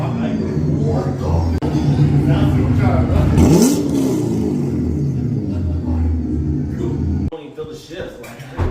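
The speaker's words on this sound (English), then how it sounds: "get this car up on the race ramps in the garage" A C8 Corvette's engine rumbles and briefly revs as the car creeps up onto race ramps inside a garage, a close, loud low growl with some clatter, cutting off near the end.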